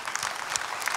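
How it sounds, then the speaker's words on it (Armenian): Audience applause for orchestra musicians at a televised folk singer competition gala, a brief burst of dense, even clapping from a large crowd. "եկեք ծափարենք մեր"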